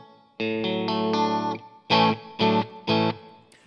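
A Strat electric guitar on the bridge and middle pickups, played through a Fender Pro Junior amp into a cabinet with a Celestion Vintage 30 speaker, rings out with reverb: one sustained chord, then three short punchy chord stabs.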